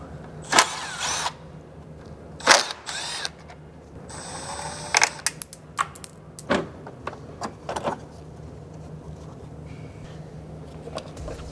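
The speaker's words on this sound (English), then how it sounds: "we're gonna pull the 3 T30 screws out that hold the intercooler in" T30 screws holding the intercooler of a Porsche Cayenne are backed out with a power driver in short bursts of whirring, separated by clicks and clunks of tool handling, close up in a quiet workspace.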